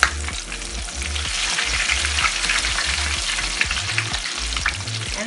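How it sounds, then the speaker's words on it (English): Chicken pieces for extra crispy fried chicken sizzle loudly in hot oil in a fryer basket, a steady dense crackle with bubbling pops running throughout, close and alone. "let's see this start to fry"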